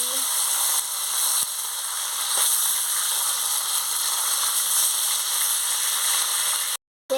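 Steady broadband sizzling and hissing of rohu fish frying in hot oil, continuous and fairly loud throughout, with a brief cutout near the end.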